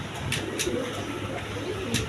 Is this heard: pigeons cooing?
yes